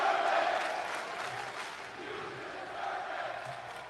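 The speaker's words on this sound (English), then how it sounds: "So the crowd is chanting, "You deserve it."" A WWE SmackDown arena crowd chants "You deserve it" in rhythmic unison, a broad distant roar of many voices rising and falling over a few seconds.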